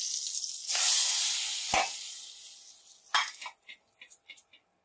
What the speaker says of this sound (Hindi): और अब हम लगाएंगे तड़का।